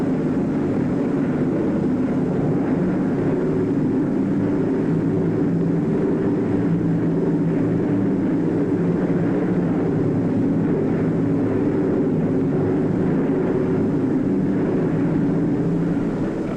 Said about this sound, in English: It blasts the field, the hangars, and repair shops with hundreds of deadly anti-personnel bombs.